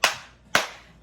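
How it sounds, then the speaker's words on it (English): Two sharp, separate claps about half a second apart, crisp and close, each decaying quickly into quiet. "Give yourselves another round of applause"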